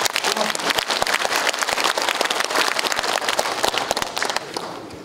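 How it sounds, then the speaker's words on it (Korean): Sustained applause from an audience at a Korean ethics and morality awards ceremony, dense steady clapping that fills the room and tapers slightly toward the end. "큰 박수 보내주시기 바랍니다"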